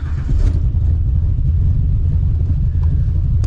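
Old box Chevy engine firing back up, a deep steady rumble with a low idle throb, close and loud with no talk.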